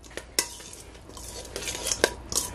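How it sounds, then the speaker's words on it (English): A metal spoon scrapes and clinks in a bowl as it breaks apart freshly cut corn kernels, giving a few light, close knocks and scratchy stirring with no talking. "I'm gonna take a spoon and just kind of break all the corn apart"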